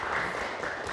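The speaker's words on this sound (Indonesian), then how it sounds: "Tepuk tangan dong." A short, dense burst of audience applause at a school children's preaching event, steady clapping at fairly close range with no pauses and no voices over it.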